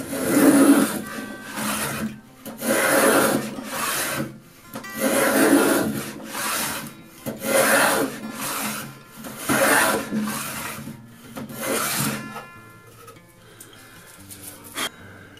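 A Stanley 45 plane with a beading cutter cuts a bead into a wooden board in about seven loud, rhythmic rasping strokes, each a bit over a second long, with brief pauses between strokes.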